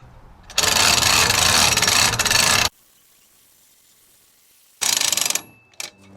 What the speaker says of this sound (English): See how this winch works.